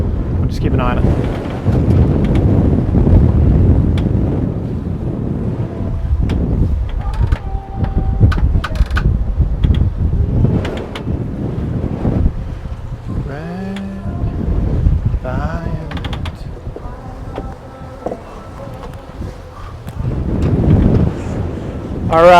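Leopard 45 sailing catamaran under sail with two reefs in 18-knot wind, steady roar of wind over the microphone with water rushing past the hulls and occasional voices in the background.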